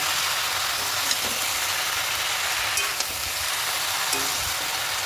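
Steady sizzling of Malabar spinach with chickpeas frying in a pan while being stirred, a dense continuous hiss with a few faint scraping clicks.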